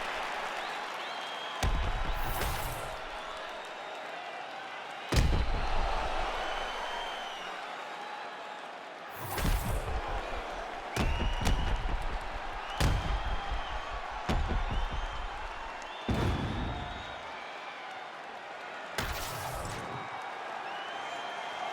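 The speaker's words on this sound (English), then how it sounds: "The crowd goes crazy because they appreciate the high-level grappling that these two women just" Crowd at a UFC women's grappling bout erupts in bursts of applause and cheering, loud swells with sharp slams between them and quieter stretches, heard from the arena floor.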